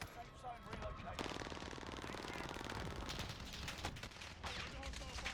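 Sustained automatic gunfire in Call of Duty: Modern Warfare, a rapid rattling burst that starts abruptly and continues steadily, with game voice chatter mixed underneath.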